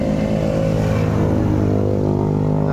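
A motorcycle engine, under repair, revs steadily with a loud, close, continuous drone and strong low harmonics throughout, with no talking.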